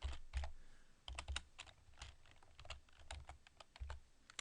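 Someone types on a computer keyboard, with quick irregular clicks and short bursts of keystrokes, quiet and close.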